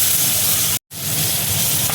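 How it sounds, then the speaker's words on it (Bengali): Chopped onion hitting hot oil left from frying eggs, for an egg curry, sizzles loudly and steadily, with a brief silent break partway through before the frying hiss resumes. "ডিম ভাজার তেলেই দেখো আমি পেঁয়াজ কুচি দেখো দিয়ে দিচ্ছি"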